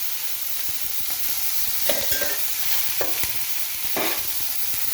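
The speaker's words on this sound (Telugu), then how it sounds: "ఇప్పుడు కొంచెం ఆయిల్ వేసుకొని పచ్చిమిర్చి కూడా బాగా వేయించుకోండి." Green chillies fry in oil in a pan, a steady hissing sizzle throughout, broken by several louder scraping stirs and light clinks of a spoon, with no one speaking.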